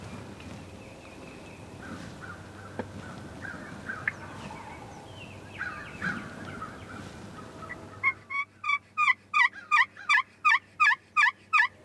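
A wild turkey gobbles during a spring hunt, first amid quiet outdoor ambience, then in a loud, close run of rapid, rhythmic gobbling bursts near the end.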